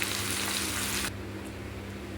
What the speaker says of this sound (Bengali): আলু পেঁয়াজটা ভালো ভাজা ভাজা হয়ে গিয়েছে